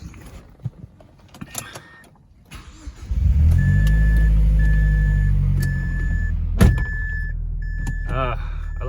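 A Mazdaspeed6 car pulls into a garage: after some shuffling noises, the engine comes in loud and close with a low steady rumble, while a repeating electronic chime beeps over it and a person talks briefly.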